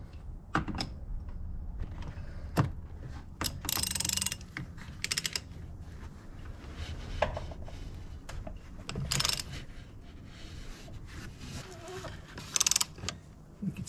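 Ratchet wrench with a stubby extension working on a Ram 3500 during maintenance: steady quiet clicking and creaking with louder clacks and clatter scattered throughout, close by.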